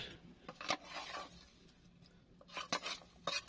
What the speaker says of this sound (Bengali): কম করে নাড়িয়ে নিচ্ছি এবার